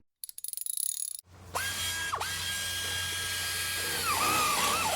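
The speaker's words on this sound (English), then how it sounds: "today we are going to check the timing on the 300ZX, and that's why you can hear it running in the background" A Nissan 300ZX Z32 twin-turbo with manual gearbox idles steadily close by, a constant engine hum with a thin whine over it, after a brief burst of mechanical clatter at the start.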